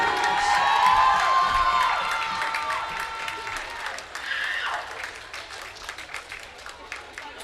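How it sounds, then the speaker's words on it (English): A basketball crowd at an EAC men's game against Pima bursts into loud applause and cheering that slowly fades into scattered claps and crowd noise, with an announcer's voice over it at the start. "Give them a big hand, folks."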